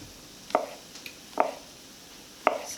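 A knife slices vegetables thin, with three distinct, close board knocks spaced about a second apart over a quiet kitchen background.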